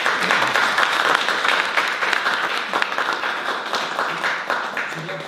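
An audience at a conference talk applauds a speaker with a loud, dense burst of clapping that stays strong and then slowly thins toward the end.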